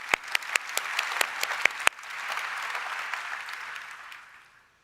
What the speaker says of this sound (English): big round of applause, by the way,